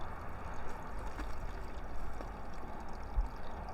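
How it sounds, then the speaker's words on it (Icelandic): Water flowing steadily through the lower part of a garden pond stream, a soft continuous rushing and trickling wash with no voices. "höfum við rennsli á neðri hlutanum af læknum"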